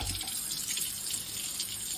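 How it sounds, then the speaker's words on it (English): Running tap water over parts of a Shark HydroVac cordless hard floor cleaner, a steady hissing splash into a sink that holds constant and close, with no speech. "Then I just rinse the whole thing out."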